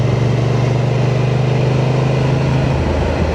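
A 2025 Honda Transalp motorcycle ridden easily along a twisty road, with a steady loud engine drone and rushing wind noise close to the rider, cruising without revving.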